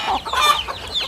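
A chicken on a rural Thai homestead clucks loudly and close by, a quick run of throaty calls rising and falling, with no voice over it.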